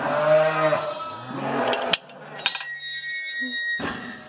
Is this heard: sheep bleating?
yes